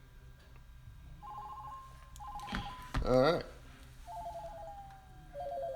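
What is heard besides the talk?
phone ringtone playing through speakers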